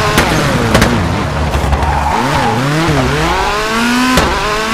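A Ford Fiesta rally car on tarmac in the video game WRC 4 pulls a handbrake turn, its engine droning and revving with pitch sweeping up and down amid tyre scrub and clattering impacts, loud and close.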